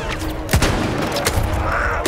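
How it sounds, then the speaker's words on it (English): A grenade blast in Battlefield 1 during a wartime campaign mission, a loud sharp burst amid steady battle noise with further distant thuds and crackling. "Oh, grenade!"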